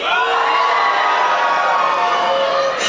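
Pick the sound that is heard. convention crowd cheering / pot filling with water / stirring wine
convention crowd cheering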